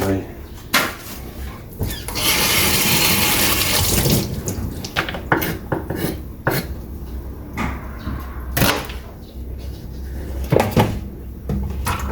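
Vegetables being washed under a running kitchen tap in a home in Japan, a loud continuous gush of water with clattering knocks of cupboards and dishes, and a voice talking now and then.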